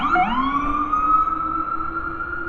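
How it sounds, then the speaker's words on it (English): Ambulance sirens wailing past in Midtown Manhattan, a loud, close siren tone sweeping steadily over street noise, with no talking. "we'll wait till the ambulances go by here."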